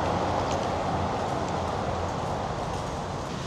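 A train at a Bangkok rail station, a steady broadband rumble and hiss of rail noise and station ambience throughout, with no clear talking.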